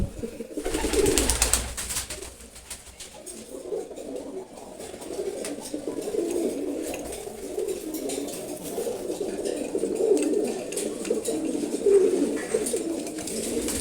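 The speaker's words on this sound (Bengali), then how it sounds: "আজকের ভিডিওতে অ্যাকচুয়ালি গিরিবাজ কবুতরগুলোই দেখাবো" Giribaj pigeons coo in low, throaty repeated calls at close range, overlapping continuously with faint fluttering and background noise.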